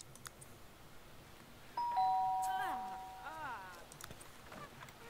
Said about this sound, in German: Geh bitte mal klingeln, Julian.